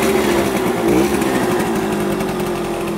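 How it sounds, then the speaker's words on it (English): 1966 Harley-Davidson Aermacchi M50S small single-cylinder motorcycle engine idling, a steady, buzzy putter close by with a brief rev bump near the start, continuous and loud with no talk. "So now that it's burning the gas out, it's idling a little better, right?"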